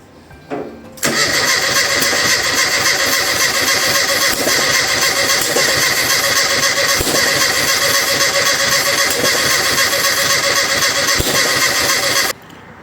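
A small engine's starter motor cranks continuously and loudly for about eleven seconds after a carburettor strip-down and clean, a steady whirring drone that stops abruptly without the engine catching.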